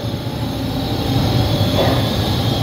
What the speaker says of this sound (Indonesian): kereta api barang melintas langsung